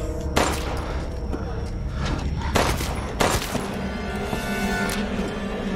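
Gunfire in the horror video game Resident Evil Village, several sharp loud shots spaced a second or so apart over a busy, noisy game soundscape.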